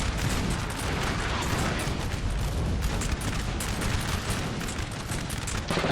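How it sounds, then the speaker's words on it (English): Massed infantry musket volleys in the Napoleon Total War battle game UK vs France, dense overlapping gunfire and booms crackling continuously and loud, no talk. "Now they're also shooting at me."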